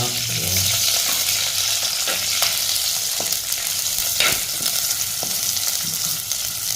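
Onions sizzle in hot oil in a clay pot, a dense, steady frying hiss at close range, with a few faint clinks and stirring knocks scattered through it and no voices.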